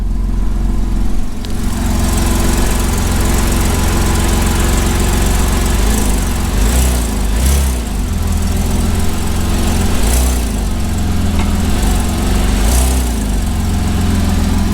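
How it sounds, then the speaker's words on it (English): A 2005 Porsche Boxster S (987) engine runs after a cold start while the car is raised and its wheels spin freely in the air, making a steady, loud mechanical drone with faint recurring whirring swells and no talk. "While the wheels are in the air, let's see if the transmission works."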